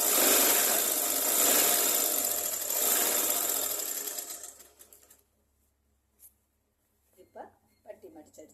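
A sewing machine stitches down a folded fabric band in a steady, close, continuous whir for about four seconds, then stops, leaving near silence broken by brief speech.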